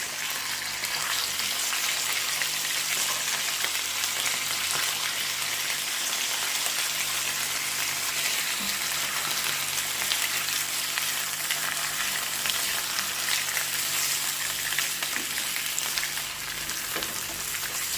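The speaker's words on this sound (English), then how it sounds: "we have fried our potatoes for 3 minutes" Potatoes fry steadily in a pan, a dense, even, close sizzle that holds at the same loudness throughout with no talking.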